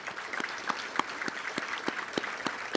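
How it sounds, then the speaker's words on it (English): Audience applause for the Fayetteville City Council members at the 2018 State of the Community event, a steady wash of clapping with a few louder individual claps standing out throughout. "If we could give them a round of applause."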